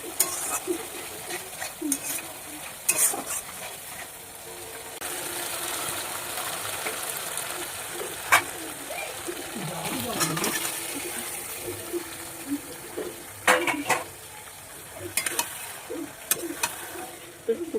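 Ground mustard paste fries in a pan, with a constant sizzle under repeated scraping stirs, clattering knocks of the utensil, and a faint voice in the background.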